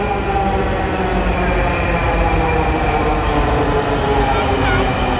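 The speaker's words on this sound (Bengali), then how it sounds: "ওই যে মেট্রো রেল আসছে" Metro rail train pulling into a stadium-area station, a loud steady rumble of wheels and car noise filling the platform, with faint squeal and continuous mechanical roar throughout.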